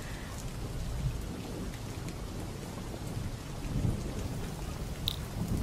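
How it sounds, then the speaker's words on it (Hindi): Heavy rain pours steadily outside with a dense, continuous hiss, while low thunder rumbles swell and fade beneath it across the whole stretch. "बाहर इतनी बारिश हो रही है ना"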